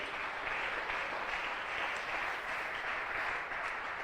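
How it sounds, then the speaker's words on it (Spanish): A church congregation applauds the King of Kings, a continuous even wash of clapping from a large crowd, moderately distant and fairly soft, with no talk over it. "Le das un fuerte aplauso al Rey de Reyes."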